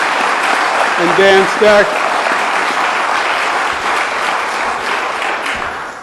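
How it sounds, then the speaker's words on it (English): Sustained audience applause fills a public gathering announcing funding for a new fire station, loud and steady throughout, with a voice briefly speaking over it. "Let's give them a round of applause."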